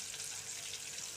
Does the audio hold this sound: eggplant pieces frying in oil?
yes